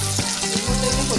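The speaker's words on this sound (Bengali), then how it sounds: "আলুটা ভাজা হয়ে গেছে, আমি আলুটা তুলে নিচ্ছি।" Potato pieces frying in oil in a pan (kadai) for a dhaba-style bhujia, a steady close sizzle with no talk.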